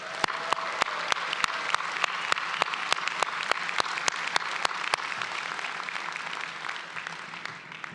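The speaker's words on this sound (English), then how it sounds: "let's have a round of applause for Dean Mills" A crowd applauds steadily at an MBA commencement ceremony for a dean, with a few sharp, loud claps standing out near the front over the continuous clapping.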